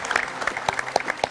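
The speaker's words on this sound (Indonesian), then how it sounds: "Tepuk tangan yang meriah untuk narasumber saya pada malam hari ini." A studio audience on a political talk show claps for guests in a brief, scattered burst of individual hand claps.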